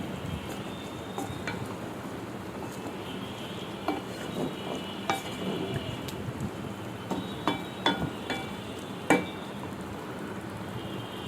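Biryani masala being stirred in a pan: a steady low sizzle runs throughout, punctuated by scattered scrapes and knocks of the spoon against the pan that grow more frequent toward the end.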